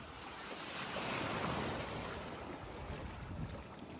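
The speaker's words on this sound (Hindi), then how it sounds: "पीछे लहरें हैं" Sea waves at Manora Beach in Karachi, a soft continuous wash of surf swelling and easing, fairly faint and distant with some wind noise and no speech.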